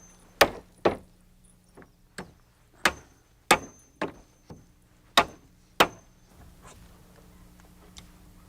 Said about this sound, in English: And now all I need to do is finish nailing off the risers.